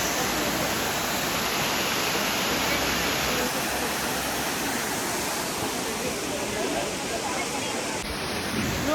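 Elephant Falls in Meghalaya, a waterfall pouring with a constant broad roar that fills the whole stretch, loud and close, with no break in the rushing water.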